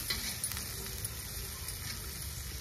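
Spinach gravy ingredients sautéing with salt in a pan, a faint steady sizzle with light stirring scrapes.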